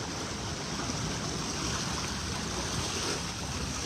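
Rainwater rushes through flooded streets of Balachaur's Teacher Colony after continuous rain: a dense, steady roar of flowing water, loud and unbroken, with no voices.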